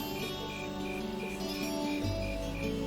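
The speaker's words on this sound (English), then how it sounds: "Insects, huh? Well, it is fall, I guess." Autumn insects in Trails of Cold Steel chirp faintly in a steady, regularly pulsing rhythm over a quiet ambient game backdrop, with a low tone swelling in near the end.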